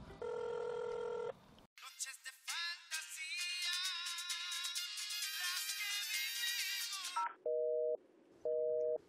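A phone call placed to a cloned mobile phone: a bright electronic ringtone melody plays for several seconds, followed by repeated short busy-signal beeps, with brief tones at the start.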